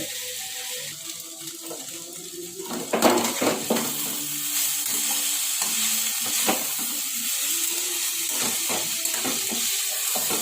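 Potatoes fry on a low flame in a pan under a quiet, continuous sizzle. Scattered scrapes and clinks from stirring are heard up close, with a louder clatter around three seconds, and there is no talking.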